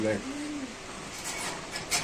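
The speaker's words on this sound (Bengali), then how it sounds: "দুইটা বিউটি কবুতর দেখতে পাচ্ছেন" Pigeons coo at a market selling racer pigeons and cages: a short, soft, low coo rises over busy market noise while people talk nearby.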